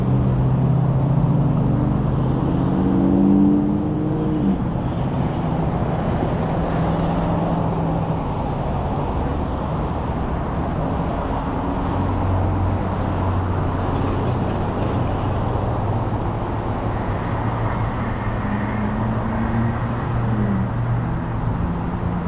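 A car drives past on a street with a steady low roadway rumble that swells and fades over about twenty seconds, heard from the pavement with no one talking.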